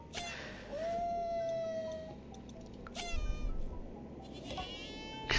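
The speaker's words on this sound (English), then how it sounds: "Surprise goat." A goat in the video game Minecraft Dungeons gives a drawn-out, wavering bleat, loud and close, followed by a few shorter bleating cries over game background sound.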